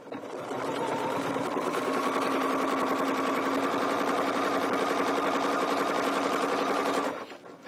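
A domestic sewing machine runs steadily as it stitches a quilt guided by rulers, its fast, even mechanical whir holding close and constant for several seconds before stopping, with no talk.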